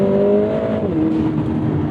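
A 2024 Lotus Emira with a turbocharged AMG four-cylinder pulls hard on track, its engine note rising steadily then dropping briefly at a shift before climbing again, loud and close from inside the car.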